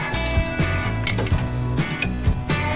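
Ratchet wrench with a 12mm socket clicking rapidly in repeated bursts while loosening pulley bolts on an engine during water pump, belt, alternator and A/C compressor work, close and loud with a steady ratcheting rhythm.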